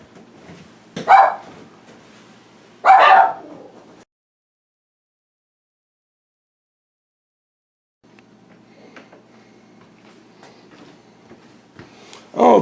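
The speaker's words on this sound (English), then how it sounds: "And of course the dogs start barking right in the middle of this." Dogs bark in two sharp, loud bursts near the start, then go quiet. A few fainter scattered barks and yips follow toward the end, with no voices over them.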